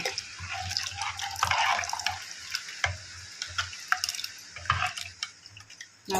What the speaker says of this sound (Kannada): ನೋಡಿ ಮಳೆ ಸ್ಟಾರ್ಟ್ ಆಗಿದೆ